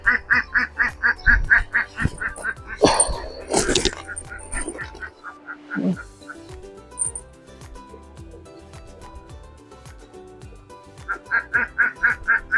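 Repeated nasal honks from a goose come in rhythmic bursts near the start and again at the end, with a noisy, clattering middle section between them.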